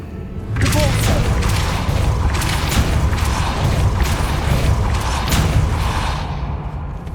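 A Depulso spell in Hogwarts Legacy goes off as a series of repeated thumping blasts with bright swooshing bursts, fairly loud and close over a steady rumbling backdrop.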